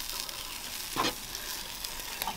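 Braided pork filet searing on a barbecue grill, a soft, steady sizzle at low volume with a brief louder crackle in the middle and no talking.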